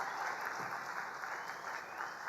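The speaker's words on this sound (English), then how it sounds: "A big round of applause for our guest of honor." A crowd at a football cup launch ceremony claps for the guest of honor, a steady, moderately distant patter of many hands sustained evenly with no voices over it.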